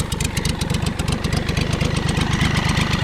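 A BMW K bike motorcycle engine runs rich at a steady, lumpy idle close by, its rapid pulsing beat loud and even, with no voices.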